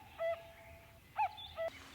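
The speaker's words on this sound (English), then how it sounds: "a cuckoo bird sings in the breeze" Two-note bird calls ring out in a spring breeze among blooming azaleas, a cuckoo singing at moderate distance with a few short repeated phrases over a quiet outdoor background.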